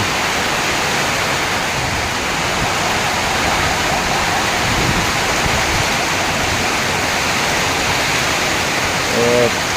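Heavy rain pours down in a dense, unbroken hiss, loud and steady from start to finish, with no clear voices over it.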